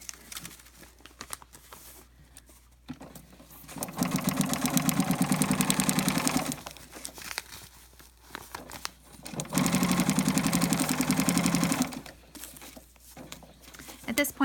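A sewing machine stitches a quarter-inch seam on foundation paper-pieced fabric. It runs in two rapid, steady buzzing bursts of about two seconds each, separated by quiet handling of paper and cloth.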